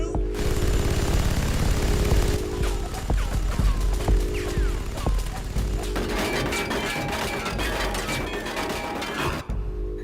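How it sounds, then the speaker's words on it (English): Close-in weapon aboard a warship firing under manual override at the hulk of the destroyer HMCS Huron during a 2007 sinking exercise: a loud, dense, continuous rattle of rapid bursts with sharp cracks and mechanical clatter throughout. "But using manual override, they are able to fire on the Hulk."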